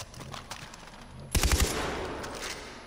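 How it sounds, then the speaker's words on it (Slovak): Burst of rapid automatic gunfire from an unfamiliar weapon in Far Cry 4, a loud close volley of several quick shots followed by a decaying echo, after a stretch of quieter game ambience. "toto je zase nejaký nový typ zbrane"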